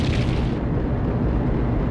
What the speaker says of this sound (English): Anyone who doesn't say the explosions are fun is a liar.